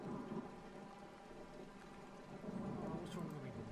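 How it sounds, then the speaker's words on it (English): Rain falling in the Skyrim game world, a soft continuous hiss and patter with low rumbling beneath, faint and steady, with a voice briefly present. "Oh, it's always raining."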